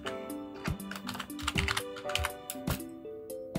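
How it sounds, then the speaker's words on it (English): Fingers tap on a computer keyboard in an irregular run of clicks, close and clear, layered over soft background music with steady tones. "let's type in the name of the church"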